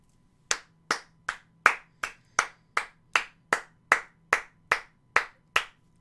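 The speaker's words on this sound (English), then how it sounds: "I'm just applauding just how everything has just come back around" A single pair of hands claps slowly and evenly, about fourteen sharp claps in a steady rhythm, close by with nothing else around.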